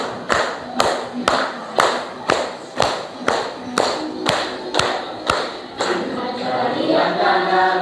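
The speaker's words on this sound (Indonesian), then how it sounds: "Tepuk." Hands clapping in a children's classroom activity: about ten sharp, evenly spaced claps at a steady beat, loud and close, followed by a softer rustling murmur at the end.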